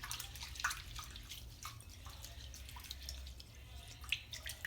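Running water splashes and trickles steadily over wheat grain in a container, with light dripping and sloshing, close by and continuous with no talking.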